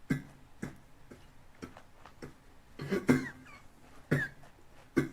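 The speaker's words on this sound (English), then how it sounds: "Coughing up a storm." Several short coughs from a man, bursts clustered near the end, quiet and a little muffled.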